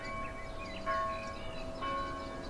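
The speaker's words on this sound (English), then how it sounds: "you can hear the church bell, which is absolutely annoying after a while" A church bell ringing in Farming Simulator 19, sustained metallic tones with two fresh strikes spaced about a second apart, moderately distant over a low background hum.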